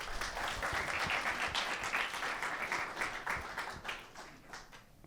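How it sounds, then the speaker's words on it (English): Warm audience applause at a digital city festival event in Manchester, a dense steady patter of many hands that fades out over the last second. "Round of applause"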